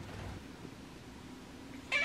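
A cat gives a single short meow near the end, asking for food in a quiet home, after a stretch of faint room noise.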